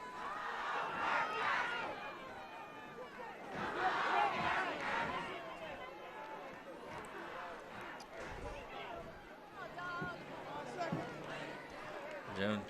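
A crowd at a Burke County vs Thomson high school football game cheers and murmurs in faint, swelling bursts, distant and low under announcers' talk.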